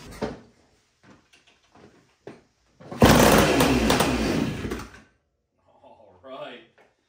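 A 1974 Honda Elsinore motorcycle engine fires up and runs loudly for about two seconds before cutting out, with people talking around it before and after.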